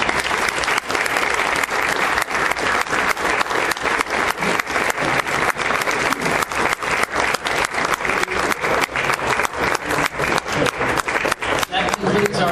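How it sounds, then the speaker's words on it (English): An audience at a candidate forum gives sustained applause, a thick, even roar of many hands with sharper claps standing out, steady and loud for the whole stretch. "Please join me in applause in thanking our candidates"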